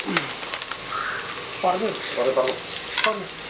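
Chopped onions sizzle in hot oil while being stirred in a pan for a Kerala-style beef fry, with scraping stir strokes and crackling bursts close by, no talking.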